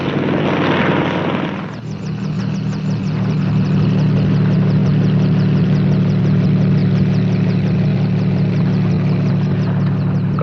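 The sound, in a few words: helicopter engine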